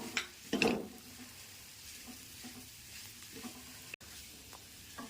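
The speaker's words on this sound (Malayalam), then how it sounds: "ഇനി ഇത് നന്നായി നന്നായി ഇളക്കണം" River clams roasting in a pan are stirred, a couple of brief scraping clatters at the start followed by a faint, low sizzle and occasional soft scrapes, quiet and without speech.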